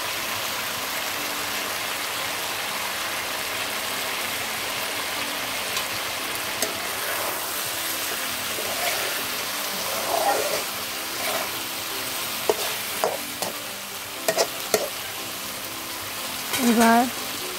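Coral fish patori cooks in mustard oil with a steady, soft sizzle throughout, and a few light clinks and taps of utensils come near the end.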